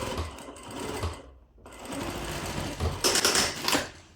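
A sewing machine runs in close, loud rattling bursts while stitching a decorative pillow, with a brief pause midway before the stitching resumes.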